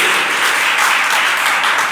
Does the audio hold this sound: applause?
yes